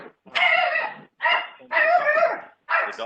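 A dog barks in four loud, close bursts with short pauses between them, somewhere near a front door, with no talk over it.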